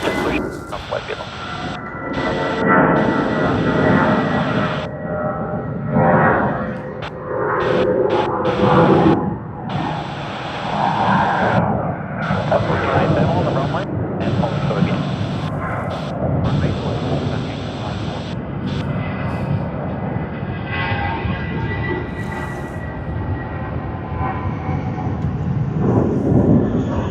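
An Airbus A330-200 taking off from Sydney Airport, a broad roaring jet rumble that swells and lingers for the whole stretch, heard from a distance under wind noise.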